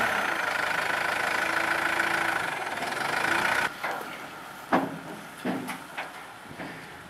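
A 400 CFM, 200 PSI diesel air compressor runs steadily at a pipe bursting job site, a constant loud engine drone for several seconds before it drops lower, broken by a few sharp knocks and clanks.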